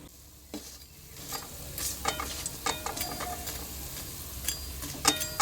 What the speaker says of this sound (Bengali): চলো বড়াগুলো ভেজে নিই এক এক করে